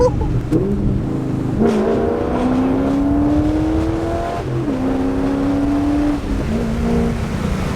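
A Corvette C5 with long tube headers, an X-pipe and no mufflers accelerates hard, its loud unmuffled exhaust rising in pitch through a gear, dipping briefly at a shift, then climbing again, with a voice faintly underneath.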